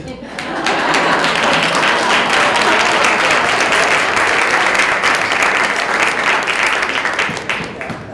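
Conference audience applauding at a fall policy conference boardroom initiative launch, a loud, dense wash of clapping that swells quickly and holds steady for several seconds before thinning slightly near the end.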